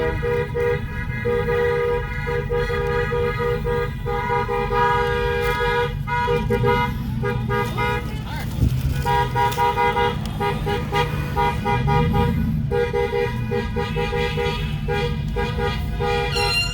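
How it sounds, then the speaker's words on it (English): A loud, blaring air horn honks almost continuously in long, steady blasts at a neighborhood graduation parade, with a few brief dips and a rough burst partway through. "Air horn."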